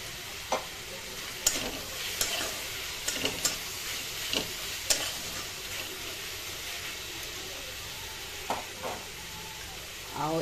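Green chilies and cashews fry in a pan with a faint steady sizzle, punctuated by scattered crisp pops and spatula scrapes against the metal.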